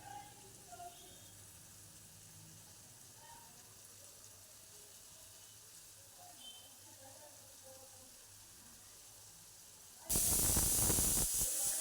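Spices with asafoetida hit hot oil in a pan for sambar; after a long quiet stretch with faint kitchen sounds, a sudden loud sizzling hiss erupts near the end.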